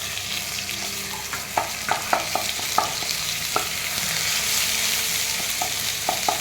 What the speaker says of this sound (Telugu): అవి కొద్దిగా వేగాక మనం ఇప్పుడు గార్లిక్ పేస్ట్ వేస్తున్నాం.